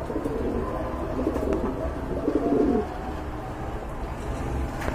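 A pair of large black Huma pigeons coo in low, repeated phrases, close and clear, with steady background noise and a louder stretch of cooing in the middle.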